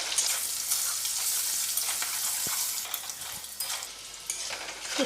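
Bitter gourd frying in a pan with salt and turmeric over high heat, a steady bright sizzle running throughout with a few soft stirring clinks, no talking.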